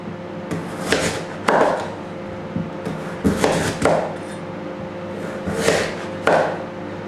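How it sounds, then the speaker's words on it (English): A kitchen knife slicing vegetables into centimetre-thick slices for broth, giving sharp thuds on a chopping board in irregular pairs with pauses between. "slice through into centimetre slices"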